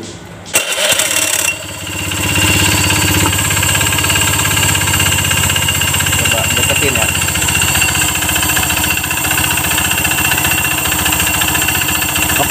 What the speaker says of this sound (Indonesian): suara kemeletek ini dari dalam mesin.